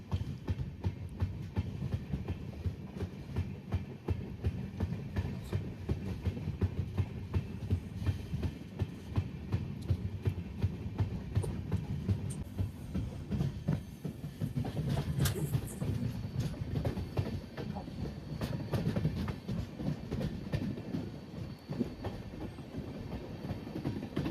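The Madgaon Express rolls along the Konkan Railway in monsoon rain, its wheels keeping up a steady rhythmic clickety-clack and rumble of rail cars heard from on board, moderately quiet and continuous.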